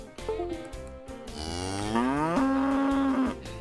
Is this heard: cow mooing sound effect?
yes